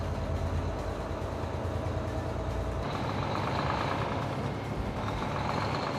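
A Volvo truck with an I-Shift gearbox drives along at low engine speed, a heavy, continuous low rumble that changes character partway through as it upshifts, with no voices.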